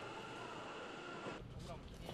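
A train running past, heard as a steady, rushing rumble with a faint metallic clatter, continuous throughout and fairly distant.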